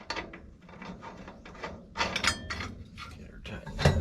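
A nut being tightened onto a sprocket shaft of a New Holland 851 baler, heard as a run of close, uneven metallic ratcheting and rubbing strokes with brief pauses between them.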